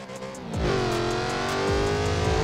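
A Lexus RC F with a 5.0-litre V8 revs hard in Forza Horizon 4, the engine note climbing and dropping through loud, close rises with a brief gear change partway through.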